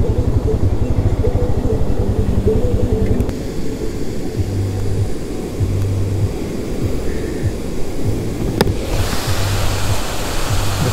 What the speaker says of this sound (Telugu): అది మెయిన్ అన్నమాట కిన్రామ్ వాటర్ఫాల్స్ ఇది